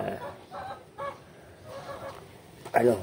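Several domestic fowl, including hens, call out in short honking clucks at feeding time against a low background murmur, with the loudest, sharpest call near the end.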